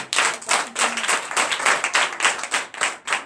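A church congregation at a night deliverance and prophecy service in Comè, Benin claps in a steady, rhythmic beat, loud and close, with broadband bursts roughly every third of a second throughout.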